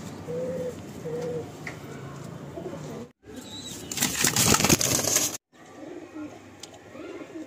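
Pigeons coo in a loft with short low phrases at the start and end, broken midway by a loud burst of rustling and wing-like flapping noise.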